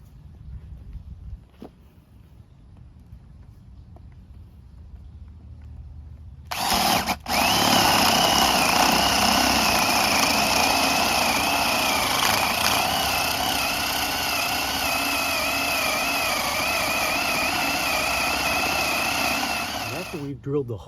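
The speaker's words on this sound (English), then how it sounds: "we're going to drill down about 4 inches on this 4x4 right through the very top" A power drill whirs loudly and steadily for about fourteen seconds, its pitch wavering as it bores down into the top of a wooden 4x4 post, after a quiet stretch with faint background noise.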